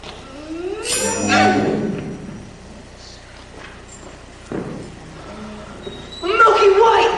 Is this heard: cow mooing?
yes